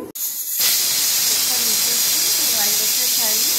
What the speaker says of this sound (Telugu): ఇదంతా ఒక 5 విజిల్స్ వచ్చేలా కుక్కర్ పెడదాము